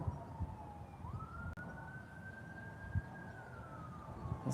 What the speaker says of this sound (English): There's always a siren.